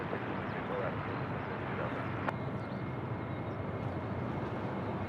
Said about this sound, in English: Here we go, Qantas 421 off to Melbourne now, rolling 34 right, next to go.